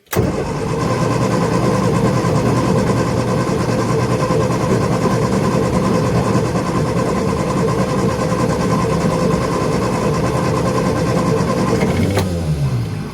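Classic car's starter motor cranks the engine continuously and loudly for about twelve seconds, a steady droning whir, then winds down abruptly at the end; no talk.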